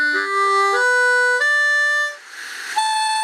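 Notes blown on a harmonica with one blocked hole, a sequence of loud reedy tones stepping upward, then a breathy airy stretch where a hole barely sounds, followed by another clear note.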